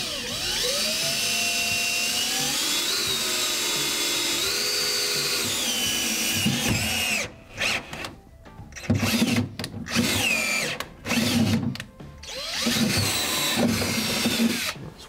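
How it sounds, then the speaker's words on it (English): A power drill bores mounting holes for the fuel pump on a Triumph TR6 during a TRGB pump conversion, a steady whining run for about seven seconds followed by several shorter bursts, close and loud. "So then we can drill where the mounting holes need to go."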